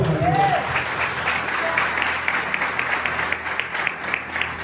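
A church congregation breaks into applause during a service, a dense, steady wash of clapping, with a voice heard briefly at the start.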